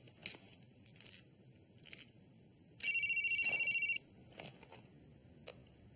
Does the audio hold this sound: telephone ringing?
yes